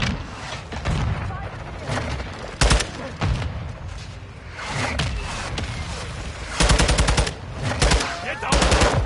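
Dense Call of Duty team deathmatch gunfire: automatic rifle bursts and single shots crackle throughout, with sharp rapid volleys standing out, mixed with soldier voice chatter and battle noise.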